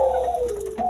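A male spotted dove (burung puter) coos once, close by: a low, smooth, sustained call that dips slightly in pitch, then briefly rises again at the end.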